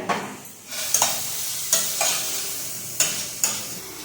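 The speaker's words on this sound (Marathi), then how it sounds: "गाजर भाजून घेते व्यवस्थित" Carrots roast in a hot pan with a steady soft sizzle, punctuated by about five sharp scraping clicks as a spatula stirs them.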